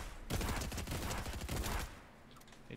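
Rapid bursts of automatic gunfire in the video game Fortnite, a dense clattering fusillade lasting about a second and a half before cutting off, followed by a few faint shots.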